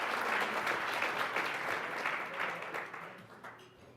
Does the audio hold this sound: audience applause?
yes